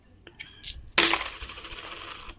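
Iranian 100 rial coins are handled, a few light metallic taps and then a bright jingling clatter as they drop and settle, close and distinct, fading out over a couple of seconds with no talk.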